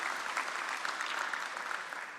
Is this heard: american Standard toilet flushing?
no